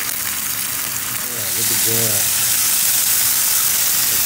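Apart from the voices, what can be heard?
meat frying and sizzling in a pan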